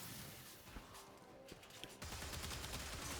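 Boltor Prime firing in Warframe, a rapid stream of dense gunshots and impacts that swells louder in the second half, continuous and fairly close.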